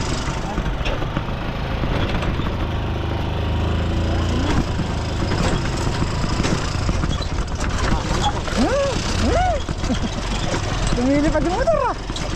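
A motorcycle engine running steadily, a constant low drone that stays loud the whole time, with people talking over it and a few louder whistling gusts near the end.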